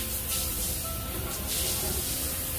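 A Pet Wand Pro sprayer shoots water during a dog's bath, giving a steady, close hiss of spray that runs unbroken for a few seconds at an even loudness.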